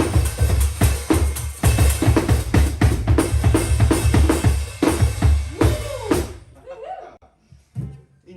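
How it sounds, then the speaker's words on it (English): A one-man band foot-operated drum kit with snare, shaker, tambourine and bell plays a steady, loud, close groove of regular thumps and jingling hits, then stops abruptly, leaving faint room noise. "So it's basically a full drum kit with my feet."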